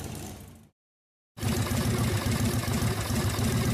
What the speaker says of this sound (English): kickstarting is where you actually start your engine by pushing down on the pedal with your foot